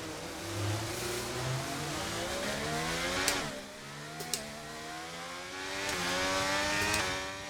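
Race car engines roar and rev in the wet-weather F1 Braking Point racing game, a steady loud drone with rising and falling pitch sweeps as gears shift, plus a few sharp clicks.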